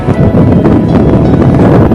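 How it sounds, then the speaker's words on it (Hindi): Steady wind buffets the microphone with a loud, continuous rumble outdoors beside rice paddies in a Bihar village under a cloudy sky. "हवा चल रही है, घटा चल रही है, ये कैसा नज़ारा है"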